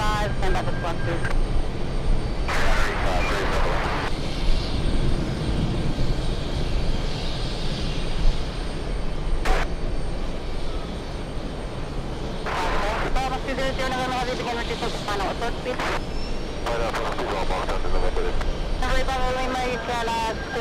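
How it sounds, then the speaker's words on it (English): Delta Airlines 767 jet airliner on the runway at JFK airport, a steady, loud engine roar lasting throughout, mixed with wind and crowd noise and intermittent radio chatter from the control tower over the top. "We go for the Delta Airlines 767 on the runway."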